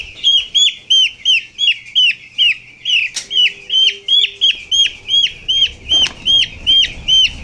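A young chick peeps loudly and continuously right up close while being lifted for weighing, its rapid piercing cheeps steady throughout, with faint handling knocks in the background.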